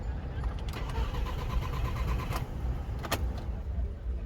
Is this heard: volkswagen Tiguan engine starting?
yes